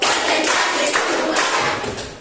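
A group claps together in a quick rhythmic pattern, loud and close, with a noisy room around it.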